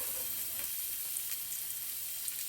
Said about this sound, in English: The same pan, just put a little bit of sesame oil. Let's add the garlic in there.